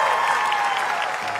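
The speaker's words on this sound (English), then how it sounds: "Round of applause for you." A live telethon studio audience breaks into brief, steady applause, a close wash of clapping lasting just over a second.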